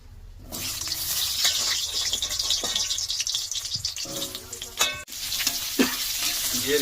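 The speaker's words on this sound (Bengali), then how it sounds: "আলুটা কড়াতে দিয়ে দিই।" Potatoes go into hot oil in a wok and fry with a steady close sizzle, broken by stirring scrapes and a few sharp clatters; no one speaks.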